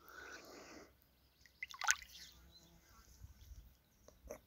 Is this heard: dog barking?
no